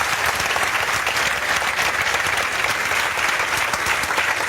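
A large audience claps steadily for the father of a poor labourer's son who got a government job, a dense, loud, continuous roar of applause with no break and no speech.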